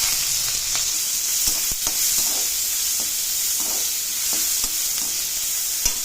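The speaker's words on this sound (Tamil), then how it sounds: "ஸ்டவ் கொஞ்சம் சின்ன வச்சு கொஞ்சம் நல்லா வதக்கிக்கலாம்" Mustard seeds, chana dal, urad dal, chilli, onion and ginger-garlic paste frying in oil over a low flame for upma: a steady close sizzle with scattered scraping stirs and light crackles, no talking.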